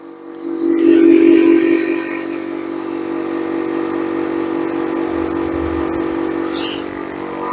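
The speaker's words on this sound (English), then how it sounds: "Start the motor." A small motor, likely an air compressor, runs steadily to fill an air cylinder, holding a loud even drone throughout with a brief louder surge near the start.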